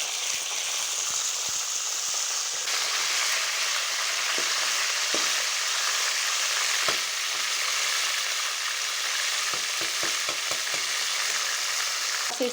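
Chicken sizzling in a pan of oil with cumin for white chicken karahi, a dense continuous hiss with occasional pops and utensil taps, steady and close, no one speaking.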